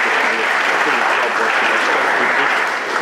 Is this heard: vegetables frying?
no